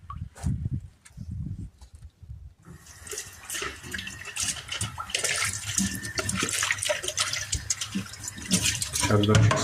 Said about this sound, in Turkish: Yıkamış olduğumuz hamsileri şimdi yıkıyoruz mutfakta arkadaşlar.